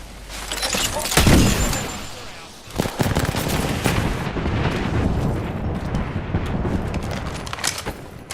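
Heavy gunfire in the video game Apex Legends, loud sustained bursts of shots and booming impacts rolling on over several seconds with a dense, noisy wash behind them.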